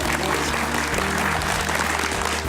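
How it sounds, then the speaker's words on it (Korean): A seated audience claps steadily and fairly loudly following a lecture and demonstration, the applause sustained throughout without pause. "좋은 강연과 좋은 시범 보여주신 우리 소장님께 큰 박수 부탁드립니다."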